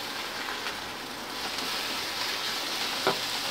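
Grated coconut sautéing in a pan for Tamil-style drumstick poriyal, a steady soft sizzle and crackle that runs the whole time, with a faint tap or stir near the end.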